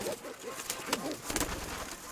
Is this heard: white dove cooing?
yes